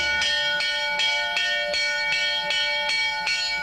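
A bell calling monks to puja strikes repeatedly at a steady, even pace, about nine clear metallic rings with sustained tones, moderately loud and alone.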